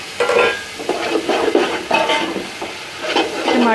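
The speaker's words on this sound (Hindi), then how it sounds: "अभी इसमें मैं डाल दूँगी टमाटर" Tomatoes being added to a frying pan for a beef yakhni pulao and stirred, giving busy clattering scrapes of a utensil against the pan over a light sizzle, close and fairly loud.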